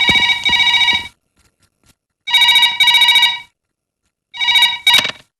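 A telephone bell rings loudly in three separate bursts with short silent gaps between them, in a home as a call comes in from the SP's office. No voices are heard over it.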